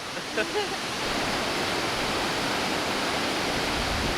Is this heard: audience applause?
no